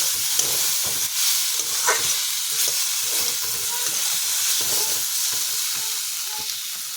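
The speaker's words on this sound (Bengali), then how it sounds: "এখন আমি একটু ভেজে নেব এটাকে।" Boiled potatoes and vegetable stems frying in a pan for a mustard dish, a steady close hiss of oil with frequent soft stirring scrapes and no voices.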